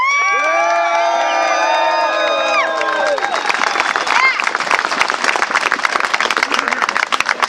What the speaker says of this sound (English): Give a big applause for Daniel Miller.